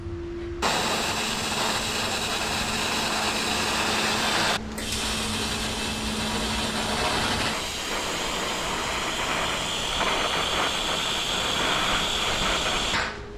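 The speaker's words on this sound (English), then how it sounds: "So today I will see if I can TIG weld" TIG welding on a homemade ring roller build, a steady loud hiss with a faint electrical buzz, running almost continuously with one brief break partway through and a slight change in tone later.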